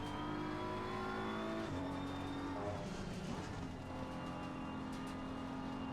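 Race cars in Assetto Corsa Competizione, including a BMW M4 GT3, roar steadily with harmonic engine tones that shift in pitch as other cars close in and pass, the sound continuous and fairly loud.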